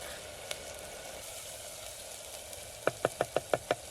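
Dry red chili sizzles in hot oil with a soft continuous frying hiss, then a quick run of six sharp crackling pops near the end, close and alone.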